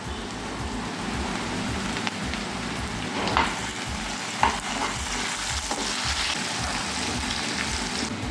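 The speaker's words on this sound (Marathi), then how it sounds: "आता इथे आपण टोमॅटो पेस्ट टाकणार आहे." Chicken masala fries in a pan as tomato paste goes in, giving a steady close sizzle broken by a few stirring scrapes and clicks.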